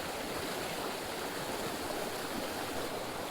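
A shallow creek rushes over rocks in a steady, close, even broadband wash of flowing water, continuous throughout with no other sounds on top.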